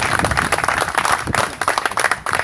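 Applause for the Lord in a church during a pastors' conference, a dense, steady crowd of clapping hands, loud and close, with sharp individual claps running through the whole stretch.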